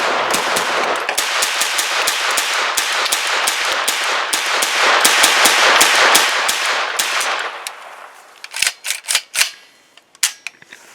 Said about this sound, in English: KR9 with a full mag of federal aluminum. Few bump fires.